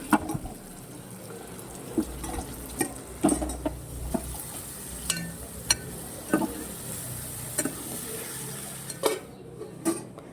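Broccoli stirred into a hot oil tempering in a pan, giving a steady sizzling frying hiss with repeated scrapes and clinks of a spoon against the pan, close and fairly loud, with no talking.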